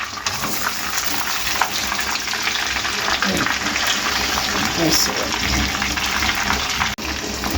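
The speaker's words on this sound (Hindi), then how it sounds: "इसको आपने कुल 10 मिनट फ्राई करना" Chicken pieces fry in hot oil in a pan, a loud, steady, dense sizzle crackling continuously throughout without any break.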